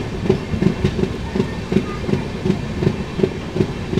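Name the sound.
Kanchankanya Express train entering Mal Junction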